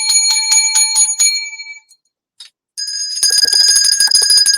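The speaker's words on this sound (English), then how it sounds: "7 lucky bells." Bells ring in a quick run of bright, evenly spaced strikes, fall silent briefly, then return as a loud, sustained, shimmering peal.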